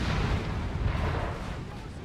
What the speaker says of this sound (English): seems like there's French artillery here. I mean, I can see it and hear it.